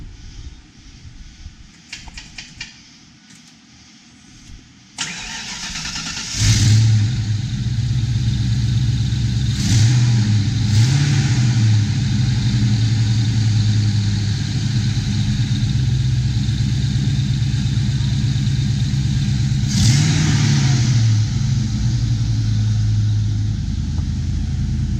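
A 1992 Ford Mustang GT V8 cranks and fires up after a quiet start, then settles into a loud, lumpy idle broken by a few sharp revs that rise and fall.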